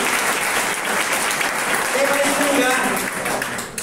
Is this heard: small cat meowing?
no